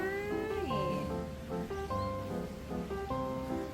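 A cat, once a stray, meows repeatedly outdoors on a short outing in a pet stroller, with several clear drawn-out calls rising and falling close by, no talk.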